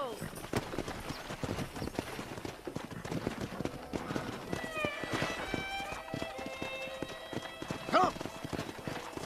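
Wild horses gallop in Red Dead Redemption 2, with close rhythmic clip-clop hoofbeats and several sharp neighs and whinnies. A man calls out and other voices speak over the herd.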